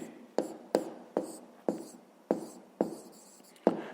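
A pen scratches across paper in quick, evenly spaced strokes, about ten short scribbles as a number sequence is written down by hand for a fifth-grade math exercise, quiet and close with no talking.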